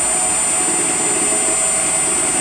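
A 1940 Hercus lathe motor runs on a variable frequency drive at 60 hertz, giving a steady, close electric whine with a high pitched tone over a constant mechanical hum, and no one talks.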